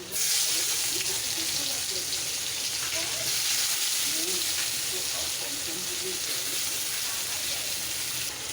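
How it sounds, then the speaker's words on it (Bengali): Chopped onions frying in hot oil with bay leaves, cloves and dried chillies for a chicken kosha, giving a steady, close, continuous sizzle and crackle with no gaps throughout. "নুনটা দিয়ে পেঁয়াজটা একটু লাল লাল করে ভাজবো"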